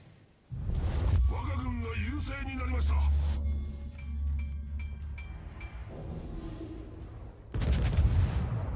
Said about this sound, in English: that was the Gneisenau shooting at me